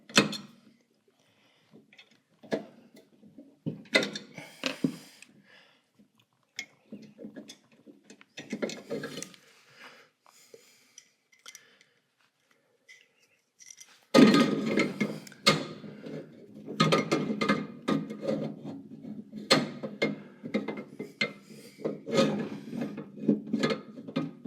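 Metal screws being driven by hand into a Vevor 14-inch electric pottery wheel: scattered close clicks and ratcheting scrapes, sparse at first, then a denser, louder run of rattling turns in the second half, with no talk.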